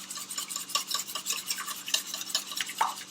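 Eggs are beaten in a bowl for pancake batter, a quick run of soft clicking and scraping strokes, close and fairly quiet, with no voices.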